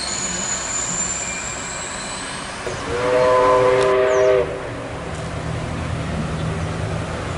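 Locomotive 5917 hauling a picnic train rumbles past a station platform at Heathcote with a steady roar, a brief whistle-like tonal blast sounding midway over the noise.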